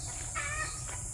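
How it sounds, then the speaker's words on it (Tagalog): A brief, distant chicken call rises out of a steady background hum, a short clucking cry lasting under a second. "Ingay ng mga manok."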